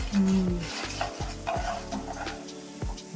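White sesame seeds fry in a pan for an avarekalu sambar masala while a spoon stirs, giving close scraping and clinking strokes over a light sizzle, with a brief tonal squeak at the start.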